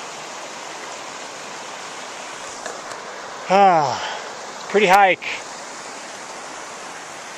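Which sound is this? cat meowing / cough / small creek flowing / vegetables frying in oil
small creek flowing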